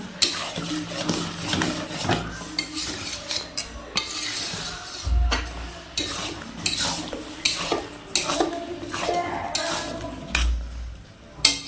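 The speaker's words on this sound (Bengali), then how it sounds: "আর এখন আমি দিয়ে দিব এর মধ্যে সামান্য সর্ষের তেল দিয়ে মিশিয়ে নেব।" Stirring sidol, a traditional North Bengal dish, with a little mustard oil and bay leaves: irregular spoon scrapes and clinks against a metal pot, with soft low sizzling beneath, close and intermittent, no talking.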